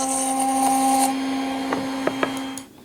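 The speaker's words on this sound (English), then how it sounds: "I chucked up a 5/32 Romanoggi bit and moved on to molding the lid and the base." A wood router fitted with a 5/32 Romanogee bit molds the edge of a box lid, giving a steady motor whine with a few sharp clicks before the sound drops away at the end.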